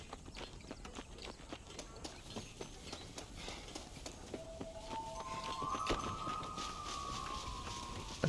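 Horse hooves clip-clop in a steady walking rhythm in Red Dead Redemption, faint and even, with a rising tonal game sound partway through and a sharp click at the end.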